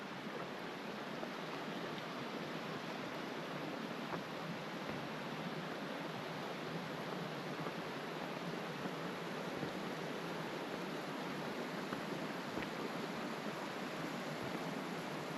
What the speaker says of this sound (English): we might be at the waterfall